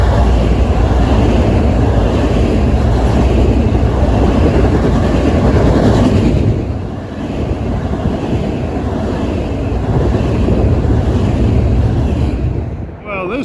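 Long Island Rail Road commuter train 852 to Long Beach rolling into Rosedale Station in Queens: a loud, continuous rumble and roar of railcars with wind buffeting, easing slightly partway through, with a voice under the noise.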